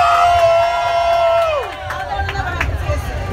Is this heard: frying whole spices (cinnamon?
no